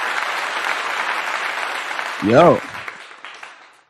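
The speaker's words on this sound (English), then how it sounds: "Let's go ahead and clap it up real quick." Audience clapping after a song during a livestream, steady applause that fades toward the end, with a voice calling out briefly partway through.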